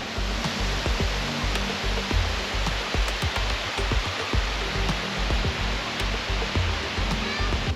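Water rushes steadily through a small sluice in a scenic UK outdoor spot, a loud, continuous broadband roar with scattered splashes and no talking.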